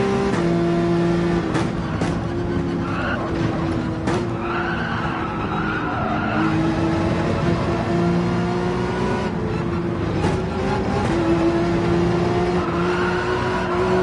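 Car engine in Gran Turismo 7 revving hard through the gears in a racing game, a loud, continuous motor note that climbs in pitch, drops at each shift and climbs again, with tyre skid noise throughout and no talking.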